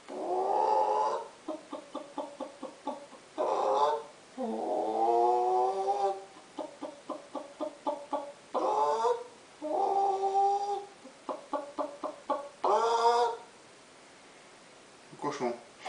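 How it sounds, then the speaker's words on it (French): A hen clucks in quick rhythmic bursts between longer drawn-out cackles, close and clear against a quiet background, the pattern repeating several times. "La poule."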